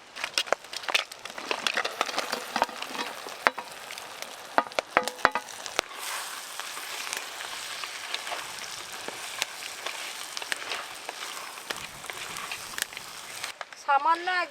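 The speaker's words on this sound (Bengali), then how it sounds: "এবার ভেজে রাখা কাঁকড়া আর কাঁকড়ার দাঁড়া মশলার উপরে দিয়ে দেব।" Fried Sundarbans mud crab and crab claws dropped and stirred into a spicy masala paste in a pan, with crackling sizzle and uneven scraping clatter while someone talks throughout.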